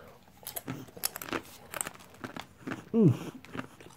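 Close, irregular crunching and chewing of something hard, with sharp crackly bites and a brief squeaky sound near the end.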